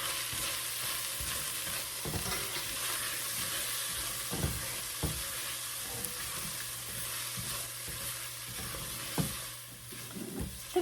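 Garlic and red pepper sizzle and crackle in a pan while being stirred, with scattered scraping clicks from the utensil against the pan over a steady frying hiss.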